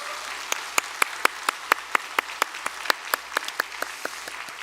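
Rhythmic, unison clapping by a church congregation welcoming two families during a Sunday worship service, sharp evenly spaced claps ringing out at a quick steady beat.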